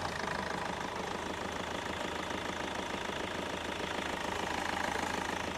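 A Hyundai Verna car engine idles steadily with a low, even rumble and light rhythmic knocking, unchanging throughout, no voices.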